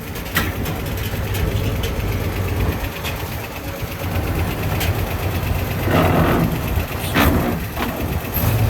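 A vehicle's engine runs steadily, low and close, while the driver downshifts, with the engine note rising and surging briefly near the end amid a few clicks and knocks.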